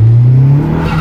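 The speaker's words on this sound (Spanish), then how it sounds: "Únicamente se escucha la hermosa válvula de alivio cuando aceleramos." A car engine revs loudly with a steady low drone, its exhaust relief valve open under acceleration, short and close with no voices.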